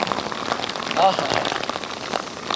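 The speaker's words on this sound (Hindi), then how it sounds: "वर्षा फिर से तेज हो गई।" Heavy rain pours down steadily outdoors, a dense close wash of drops drumming on surfaces throughout, loud and unbroken, with the person standing in it getting soaked.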